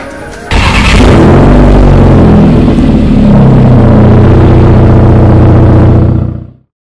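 A VW Golf MK6 with a custom-built exhaust muffler and DSG gearbox roars loud and close, holding a sustained rev for several seconds before cutting off abruptly.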